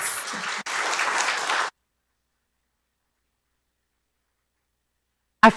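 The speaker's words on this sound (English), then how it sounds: "let's give them all a round of applause just for their introductions" Audience applause at a county Board of Supervisors candidate forum, a steady burst of clapping from a seated crowd that lasts under two seconds and then cuts to silence, with a brief faint sound at the very end.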